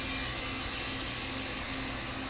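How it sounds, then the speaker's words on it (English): Ultrasonic cleaner in a passivation tank giving off a steady, piercing high-pitched whine during tuning, loud and continuous over a low background hum, with no voices. "That high pitch is just the tuning of the ultrasonics."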